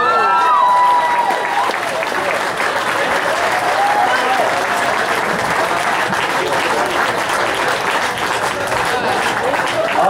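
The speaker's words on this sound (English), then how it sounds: "please give a big round of applause" Audience applause for a singer at a live country music show, loud and continuous with a crowd murmur and scattered cheers throughout.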